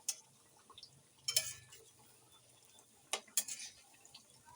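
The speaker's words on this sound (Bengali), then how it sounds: "খুন্তির সাহায্যে এখন বড়াগুলো আমি উল্টিয়ে নিচ্ছি এক এক করে।" A metal spatula flips papaya fritters one by one in a frying pan, giving a few quiet, sharp clicks and scrapes in two small clusters against a faint, low kitchen background.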